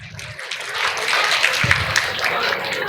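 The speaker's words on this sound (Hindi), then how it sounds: "Again, give a huge round of applause." Audience applause at a school winter carnival: a sustained wash of clapping from a crowd, moderately loud and steady, with some voices mixed in.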